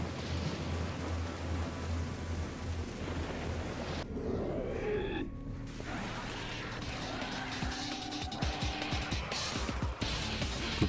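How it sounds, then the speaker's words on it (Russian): Rain falls indoors inside a building in the video game Devil May Cry 4, a dense steady hiss under crashing combat impacts and thuds, with a brief break midway. "И дождь идет в здании"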